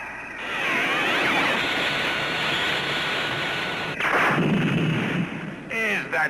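Weapon fire in a 1966 science fiction TV series sounds as a sustained, roaring blast, loud and continuous for several seconds, followed by a second burst and brief whooshing effects.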